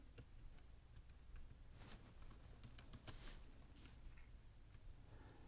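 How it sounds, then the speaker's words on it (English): A preset name is typed on a computer keyboard, a quiet run of irregular key clicks in bursts over faint room hiss, with no one talking. "and typing in a name."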